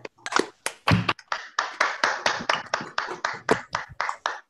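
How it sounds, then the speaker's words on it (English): Scattered clapping from online seminar attendees with unmuted microphones, uneven bursts of a few hands at a time rather than a unified crowd, close and slightly clipped, continuing steadily for several seconds. "If people want to unmute their microphones, we can give her a round of applause."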